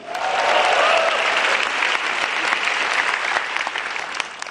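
A packed theatre crowd at a stand-up comedy grand final claps enthusiastically, the dense applause swelling early and then holding steady before thinning slightly toward the end.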